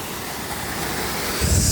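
Mo Paeng waterfall in Pai, Thailand, gives a steady broadband rush of falling water, close and continuous, with wind buffeting the microphone and a louder surge near the end.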